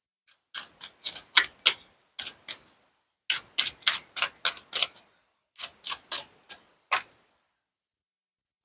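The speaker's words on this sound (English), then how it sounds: "Now at the Rider-Waite-Smith deck, I'm going to be pulling 3 cards." Rider-Waite-Smith tarot cards being shuffled and drawn from the deck, a close series of crisp card snaps and flicks in quick clusters with short pauses between them. The sounds stand alone against silence.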